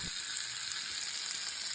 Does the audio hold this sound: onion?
yes